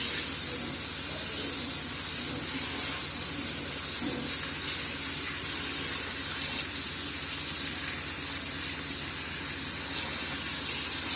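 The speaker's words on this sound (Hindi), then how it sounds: "अब हम इसके ऊपर ठंडा पानी डालेंगे" Cold water pours over boiled chicken noodles, a steady hissing gush that runs unbroken and fairly loud for several seconds with no speech.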